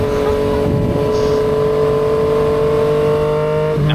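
A Yamaha XSR900 motorcycle engine runs loud and close at a high, steady pitch, holding the rev for several seconds before the note drops briefly and climbs again at the very end.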